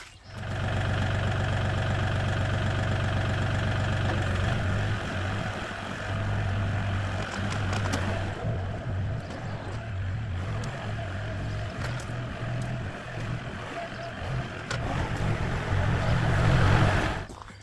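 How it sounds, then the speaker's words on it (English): A tractor engine runs on a small farm with Orpington chickens, a loud steady low idle that drops in pitch partway through and rises again toward the end. "So I am going to go get the tractor."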